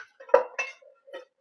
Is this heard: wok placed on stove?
yes